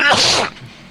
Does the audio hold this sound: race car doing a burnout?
no